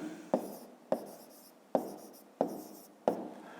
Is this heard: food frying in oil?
no